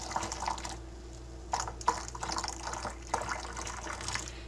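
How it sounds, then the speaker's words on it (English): Wild grape juice poured into a glass jar, close up, with trickling and splashing bursts that come and go and no voices. "And then all I do is pour my juice into my jar."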